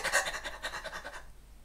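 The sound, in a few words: rapid shallow stress breathing demonstrated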